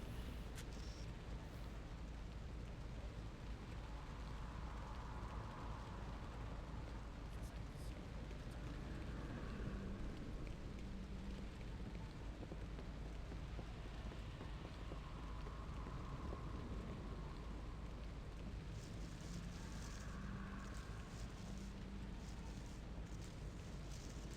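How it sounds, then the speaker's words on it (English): Constant rain falls through a mission in the stealth game Hitman: Contracts, a wide unbroken wash of drops with low rumbling underneath and faint swells of background tone, no voices. "could we have a mission where it's not raining?"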